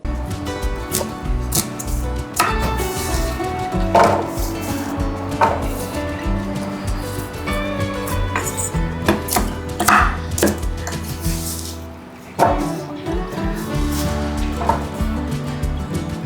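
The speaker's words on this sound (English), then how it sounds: "Then I like to cut them in about 2 to 3 inch chunks." A knife chops asparagus into two-to-three-inch chunks on a board, a long run of steady, fairly close thuds with one brief pause near the end before the cutting resumes.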